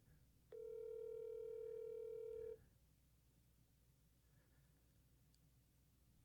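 A single steady telephone ring tone on an outgoing call, one long flat buzzing tone lasting about two seconds, fairly faint and alone against quiet line hiss.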